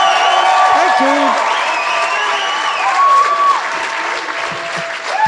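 A crowd applauds steadily throughout, dense clapping with scattered cheers and a few shouted voices mixed in.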